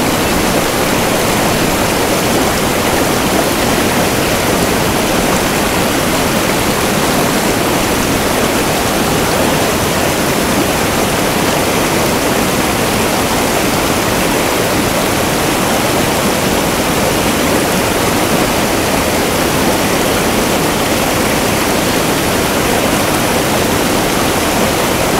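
A river in Patagonia rushes by in a loud, dense, continuous wash of water noise that holds steady throughout, with no voices.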